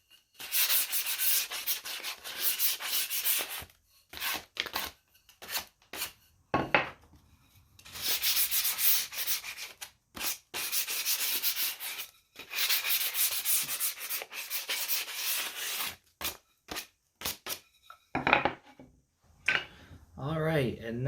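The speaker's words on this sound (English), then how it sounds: "we're going to go ahead and we're going to sand those down" Wooden farmhouse sign edges being hand-sanded with 220 grit sandpaper, steady scratchy strokes in bursts of a few seconds with short pauses, close and fairly loud, with a voice speaking briefly near the end.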